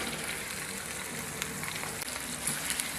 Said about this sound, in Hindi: इसको 3 से 4 मिनट के लिए भून लेंगे